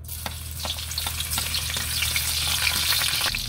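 Garlic fries in a pan of oil with a dense, continuous sizzle that builds slightly louder, broken by faint crackles and light stirring taps close by.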